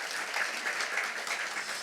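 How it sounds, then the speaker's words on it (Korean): A lecture audience in Korea applauds together, a soft, even clatter of many hands heard from some distance that runs steadily without pause or voices. "우리 박수로 한번 나눠주시기 바랍니다."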